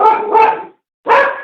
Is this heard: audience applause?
no